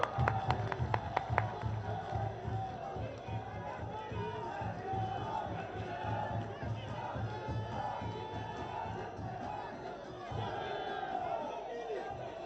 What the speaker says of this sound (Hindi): तालियों के द्वारा मित्रों